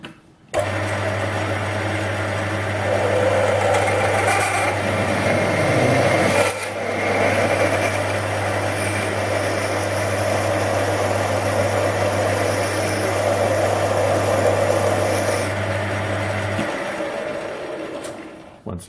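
A 10mm HSS drill bit from a cheap 25-piece set bores into metal stock, giving a steady, loud whine and grind with a constant low motor hum that runs for about sixteen seconds before winding down.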